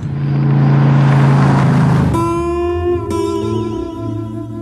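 A Ford Mustang muscle car engine roars and revs hard, its pitch climbing before shifting into a rising, strained whine, close and powerful.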